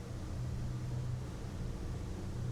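Low, steady engine roar and hull noise from a Riviera 4300 Sports Express boat with twin Volvo IPS 650 engines picking up speed, a constant broadband rumble with a faint rising tone and no talking.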